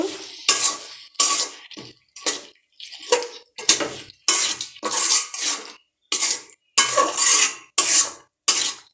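A spoon stirs chickpea curry with turmeric and salt in a pot, making a run of separate scraping, clinking strokes with short silent gaps between them, close and fairly loud.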